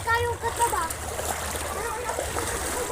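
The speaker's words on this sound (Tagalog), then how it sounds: "Ha, baha sa highway pod." Floodwater sloshes and splashes across a flooded highway during Typhoon Opong, with continuous rushing water close by and voices talking over it.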